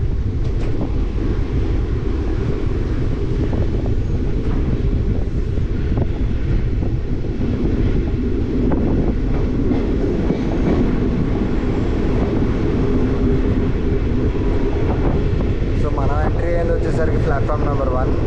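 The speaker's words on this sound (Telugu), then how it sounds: "ఇప్పుడు మన ట్రైన్ అయితే టర్న్ అయితే తిరగబోతుంది." An Indian Railways passenger train, Kacheguda to Medak, rolls along the tracks with a loud continuous rumble and rattle, wind buffeting the microphone, and faint squeals rising near the end.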